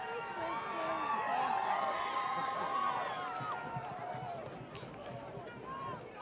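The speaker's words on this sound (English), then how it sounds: "Very much appreciative of the cheers." Crowd cheering and calling out at a high school powder puff football game, a sustained, lively roar of many voices from the stands that stays loud throughout and eases slightly toward the end.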